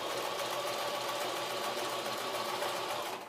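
A sewing machine runs continuously at a steady, fast whirring pace, stitching wool locks into yarn, close and even in volume until it stops at the very end, with no voices.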